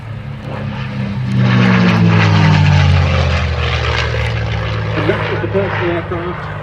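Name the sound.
P-51D Mustang fighter aircraft flying, propeller engine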